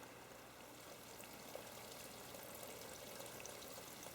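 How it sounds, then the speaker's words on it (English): A spring stream on a quiet hiking trail in Japan trickles over wet rocks, a faint, continuous wash of running water with small splashes and no voices. "Can you hear the water drizzling over the rocks there?"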